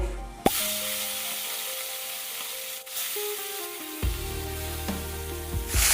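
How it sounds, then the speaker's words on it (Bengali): Morola fish frying in hot mustard oil in a kadai, a steady broad sizzle with some stirring scrapes and a sharp clatter near the start, fairly close and loud, no talk. "এবার আমি মোরলা মাছগুলোকে ভেজে নেব"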